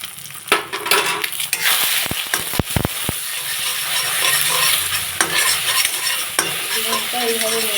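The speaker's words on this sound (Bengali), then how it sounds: "ডিমটা এইভাবে নেড়ে নেবো যাতে ছোটো ছোটো ছিদ্র হয়ে যায়।" Egg stirred and frying in a pan with salt, a loud sizzle and crackle punctuated by sharp metallic scrapes and clinks of the spatula, busy and close throughout.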